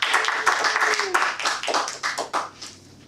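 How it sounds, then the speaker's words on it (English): Clapping at a Toastmasters meeting: a short run of uneven, fairly close claps, thinning out and fading toward the end, with a voice speaking over the start. "But we can still clap."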